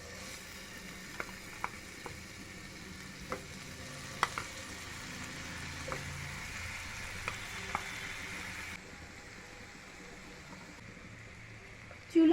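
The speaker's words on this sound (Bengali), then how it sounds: "বাটার মেল্ট হয়ে গেছে। এবার আনারসের টুকরোগুলো দিয়ে দিচ্ছি।" Pineapple pieces fry in melted butter over a medium flame with a faint, even sizzle and occasional light taps of a utensil, then the sound drops away toward the end.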